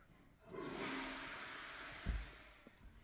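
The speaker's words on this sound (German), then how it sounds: "Hat da schon wieder jemand die Spülung betätigt?" A toilet flushing in a home, a rush of water that swells, holds steady for a couple of seconds, then tapers off with a few small knocks at the end.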